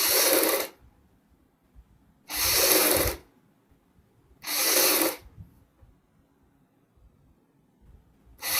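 A sewing machine stitches a child's fancy dress in three short runs of rapid whirring, separated by quiet pauses, close by.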